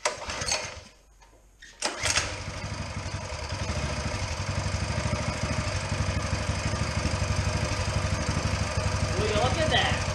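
Small single-cylinder engine on a Coleman minibike, fitted with a replacement carburetor and run on choke, catches after a brief sputter and settles into a steady, close, buzzing idle with a rapid even pulse, while a voice talks over it.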